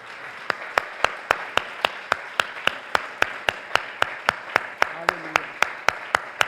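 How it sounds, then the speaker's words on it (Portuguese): Rhythmic, evenly spaced clapping from a church congregation, a steady beat of sharp claps across the whole stretch with a brief low murmur partway through. "Você pode dar uma salva de palmas para Jesus."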